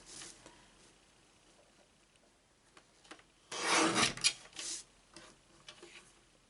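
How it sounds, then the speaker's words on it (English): Paper is trimmed for a scrapbook layout, with faint scattered taps and rustles, then a loud scraping burst of about a second followed by a few shorter rasps, close by, with no talking. "I'm just going to trim off a tad"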